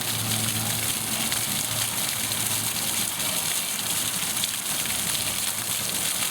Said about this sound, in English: So 5 columns with water coming out.